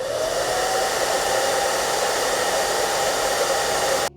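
Hair dryer running continuously from about three feet away, a loud steady whooshing roar of airflow with a faint motor whine, stopping abruptly at the end.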